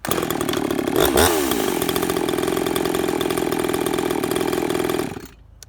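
A ported Husqvarna 350 chainsaw with an 18-inch bar and full chisel chain runs at a loud, steady high pitch, with a brief rev blip near the start, before cutting off abruptly near the end.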